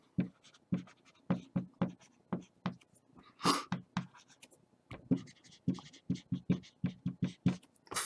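A pen writes an augmented matrix on paper with quick scratchy strokes in an irregular rhythm, close and fairly quiet, one stroke after another with brief pauses between them.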